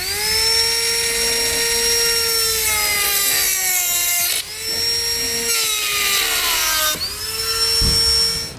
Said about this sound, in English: We're going to use our cutoff wheel to just run through that.